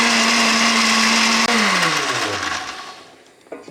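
A blender whirs at steady speed through fish mince and water for a fish milkshake, then its motor pitch drops as it winds down and stops, followed by a brief clatter.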